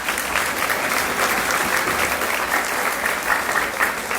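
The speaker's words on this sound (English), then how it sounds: "Give them a big round of applause." A crowd at a festival queen's contest applauds its sponsors, a thick, even wash of clapping from many hands that holds steady and loud throughout.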